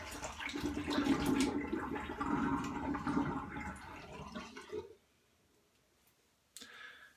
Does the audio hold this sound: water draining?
yes